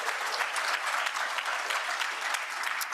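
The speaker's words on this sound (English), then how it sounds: "we could give a big round of applause to all the servers here and the people that made our food" An audience at a Rotary gathering applauds the servers and cooks, giving dense, steady clapping from many hands in a room that holds at an even level throughout.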